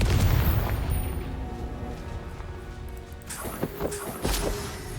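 A spell blast from the fantasy game Hogwarts Legacy, heard as a deep booming burst over rumbling low-end noise, followed by a few sharper crackling hits near the end.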